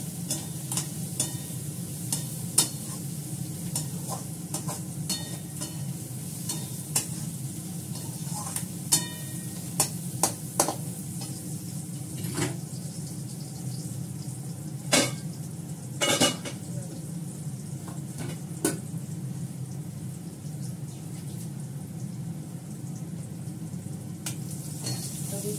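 Cabbage and carrot stir-frying in a pan, with a steady low sizzle beneath repeated scraping and clinking of a utensil against the pan, irregular and close, with no talking.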